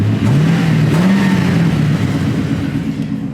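A Ford S550 Mustang GT engine revs up nearby, its pitch rising and wavering before settling back to a steady idle rumble.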